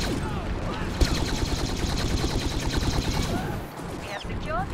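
Light machine gun from Star Wars Battlefront firing a steady rapid stream of laser shots, loud and sustained for several seconds, then cutting out briefly before scattered shots and game voices return.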